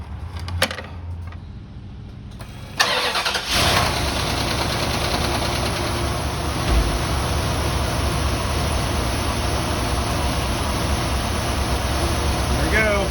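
A 1989 Cadillac Allante engine cranks briefly with a couple of starter bursts, then catches and settles into a loud, steady idle that runs on to the end.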